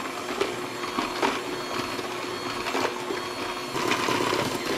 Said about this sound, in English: I love to just use my little hand mixer here. So now I'm going to blend